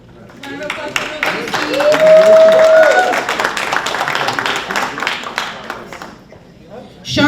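At a graduation ceremony for a construction training program, a crowd gives a graduate a round of applause, the clapping rising quickly to a full, dense burst with a few cheers, easing off, then surging again at the end.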